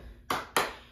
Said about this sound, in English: Side rock crossing double clap.